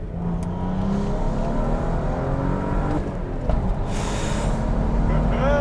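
A 400HP BMW 435i pulls hard through second gear, its engine note climbing steadily in pitch from inside the cabin, ending with a brief shift and fresh rise over constant road and wind roar.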